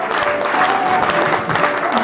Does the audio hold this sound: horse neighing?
no